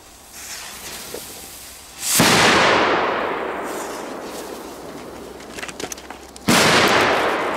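Polish firecrackers set off outdoors on grass, with two sharp, loud bangs several seconds apart, each followed by a long, fading rumbling echo, and faint background sounds in between.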